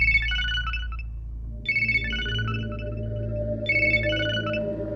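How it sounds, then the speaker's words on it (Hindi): A phone ringtone plays in a South Indian film scene while the call goes unanswered: a bright electronic melody repeats in three bursts about two seconds apart over a low, steady background hum. "भाई रिंग बज रही, वो उठा नहीं रहा है।"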